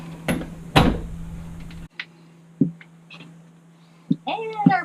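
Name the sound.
RV door being closed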